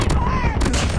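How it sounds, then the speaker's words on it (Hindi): Loud, continuous gunfire from a gun in Call of Duty, a dense burst of shots that fills the clip, with no voices over it. "बड़ी बवाल गन है ये शॉर्ट और लॉन्ग रेंज पे भी बहुत धमाकेदार गेम खेलती है"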